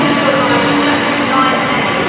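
A CrossCountry train runs at Birmingham station bound for Nottingham, a loud, steady rumble of wheels and engine filling the platform.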